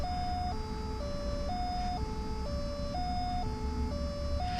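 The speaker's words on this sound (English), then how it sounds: "we can hear that the door chime I was talking about" A 1990 Volkswagen Corrado G60's door chime repeats a two-tone electronic pattern, alternating high and low notes in a steady rhythm, continuous and fairly quiet.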